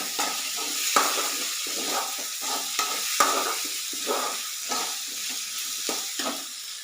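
Curry frying in a pan is stirred steadily so it won't stick, a continuous sizzle and hiss broken by regular scraping strokes of the spoon, close and moderately loud.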